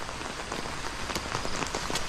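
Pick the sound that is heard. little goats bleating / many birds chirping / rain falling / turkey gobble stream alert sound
rain falling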